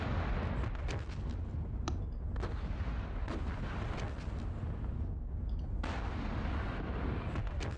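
Tanks firing on an objective area in the Normandy wargame Panzer Battles: a muffled, distant rumble of gunfire and shell blasts goes on without a break, with a few sharper reports poking through.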